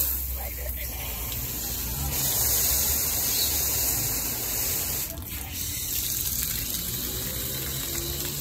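A garden hose runs steadily as plants along the side of a new greenhouse are watered, a continuous close spray and gush lasting throughout with faint voices in the background.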